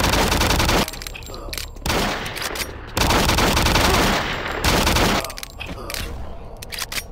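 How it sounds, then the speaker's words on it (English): Rapid machine gun fire from the Doom 3 video game comes in loud sustained bursts, about three long volleys separated by short gaps. "Good thing I have a rapid fire."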